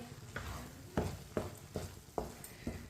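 A spoon stirring chopped green chillies and fresh coriander into cooked mash dal, with six or so soft, regular scraping strokes against the pot and no talk.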